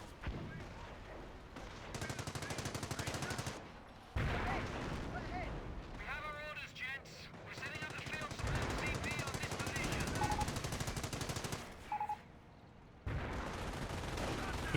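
A .30 cal machine gun firing in the WWII strategy game Company of Heroes 1, sustained rapid bursts with brief pauses, loud and continuous, with a commentator talking over the gunfire.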